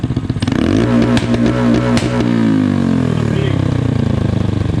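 A Honda Grom motorcycle engine on an ECU tuning stand holds against its two-step rev limiter at about 7,000 rpm, a loud, steady buzzing drone broken by sharp crackling cut-outs, close up and without talk.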